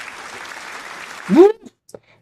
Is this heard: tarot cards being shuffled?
no